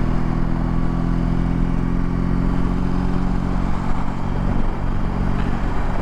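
A 2022 BMW R18 Transcontinental heavy cruiser motorcycle runs at nearly 80 mph, with a steady, loud engine drone mixed with road and wind roar throughout and no talking.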